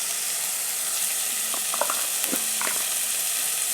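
Ginger paste and turmeric powder frying in a pan for a potato curry, a continuous sizzle with a few scraping stirs of a spatula, close and alone.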